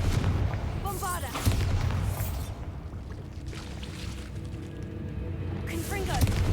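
Spell blasts from Confringo and Bombarda in the video game Hogwarts Legacy go off as heavy booming bursts over a dense rumble of game noise, with a voice speaking over the action.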